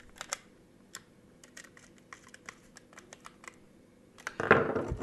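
Screws being tightened on a Sad Robot 1 robot kit during final assembly, heard as a run of light close clicks and ticks like small tool taps, ending in a louder rustling clatter.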